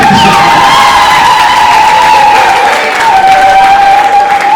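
A crowd applauding and cheering loudly and steadily at a lively Rwandan gathering, with a sustained high whistle-like tone running through the dense clapping.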